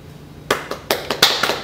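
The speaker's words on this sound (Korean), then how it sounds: "왜 박수를 치시죠?" A few pairs of hands clap after a spoken presentation on a talk show: a short quiet pause, then about half a dozen sharp, close claps in a loose, irregular rhythm, with no one talking over them.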